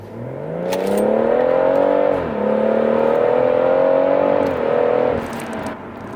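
A tuned BMW M140i with a Bluespark module accelerates hard in sports mode, its engine note rising loud and close through the gears with brief dips at each shift, no voices over it.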